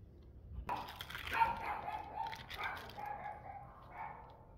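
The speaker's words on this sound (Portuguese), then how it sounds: "Cachorro aqui, pessoal, não pode ver uma pessoa passando na rua que já começa a latir em direção ao portão." A pinscher dog barks toward the gate at someone passing in the street, a sharp sudden outburst at moderate distance that trails off into a busy, reverberant mix of sound.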